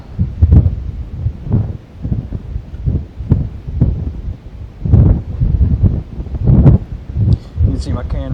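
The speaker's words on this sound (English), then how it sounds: "oh, you can see the wind picking up." Strong high wind buffets an outdoor microphone in repeated heavy low gusts, loud and close, with some rustling between bursts.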